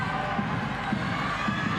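Crowd noise at a college gymnastics meet between California and NC State, a steady loud roar of spectators with cheering swelling throughout.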